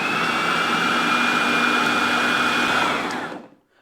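Kitchen blender whizzing roasted tomatoes, shallots and garlic into sauce, a loud steady high whirring roar close up for about three seconds before winding down and cutting off.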